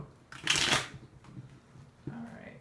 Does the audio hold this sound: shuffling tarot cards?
yes